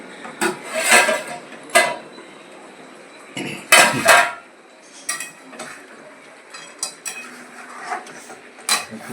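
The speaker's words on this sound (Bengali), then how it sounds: "এবার ঢাকাটা খুলে দেখি" The lid comes off a metal cooking pot of village-style chicken kosha, giving a few loud metallic clanks and scrapes followed by lighter, scattered clinks at irregular intervals.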